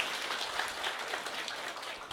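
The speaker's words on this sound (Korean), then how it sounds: "큰 박수 한번 부탁드리겠습니다" Audience applause at a Monday company assembly, a dense patter of many hands clapping steadily throughout, heard from a distance without speech.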